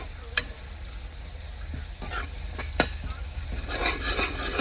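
Spice tempering (tadka) for sev bhaji roasts in a pan with a continuous close sizzle, punctuated by a few sharp clicks and scrapes of stirring, with no talking.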